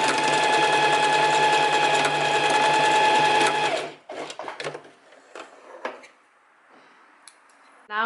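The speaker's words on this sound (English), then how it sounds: "we can go to our sewing machine, and I'm gonna set mine to a zigzag stitch, and I'm just gonna go back and forth a couple times" A sewing machine runs a zigzag stitch while securing folded elastic for a bias-cut maxi skirt, a steady close whirring for about four seconds that then stops, followed by faint clicks and handling of fabric and objects.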